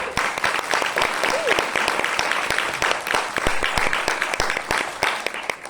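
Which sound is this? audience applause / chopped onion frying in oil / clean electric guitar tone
audience applause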